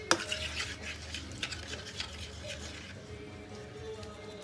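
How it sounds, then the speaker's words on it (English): A spoon stirs chicken chaat masala into a pan and then knocks against the rim, with soft scraping and faint clinks over a low background hum. "Stir it in to get it all off the spoon."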